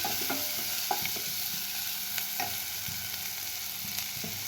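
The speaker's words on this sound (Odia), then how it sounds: "ପିଆଜ ରସୁଣ ଅଦାକୁ ଏଠି କଞ୍ଚା ସ୍ମେଲ୍ ଗଲା ଯାଏଁ ଭାଜିବା" Onion, garlic and ginger fry steadily in a pan, a continuous close sizzle with soft stirring clicks and scrapes throughout, no voices.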